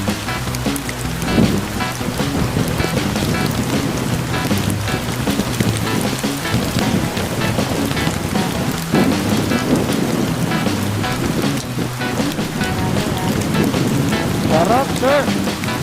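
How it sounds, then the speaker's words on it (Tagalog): Heavy rain pours steadily during a motorcycle ride from Cainta to Limay, Bataan, a dense continuous wash of drops with low rumbling underneath that may be thunder or wind, sustained and loud throughout. "Sakit ng tama ng ulan sa balat. Parang tinutusok ng karayot."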